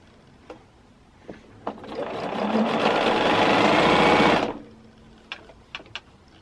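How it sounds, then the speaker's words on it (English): A sewing machine stitching quilt triangle pieces into pairs, whirring up to a steady, fast mechanical hum for about three seconds before slowing and stopping, with light clicks and handling taps around it. "now my next step is to sew these into pairs"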